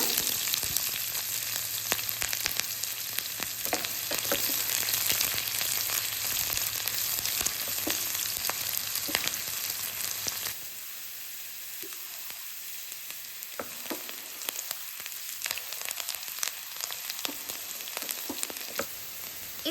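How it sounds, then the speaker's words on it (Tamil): Onions frying in oil with cumin and pepper for a capsicum gravy, a loud close sizzle with crackles and stirring scrapes that drops to a quieter simmering hiss about halfway through, no voices. "இப்போ வெங்காயம் நல்லா வறுத்துருச்சு"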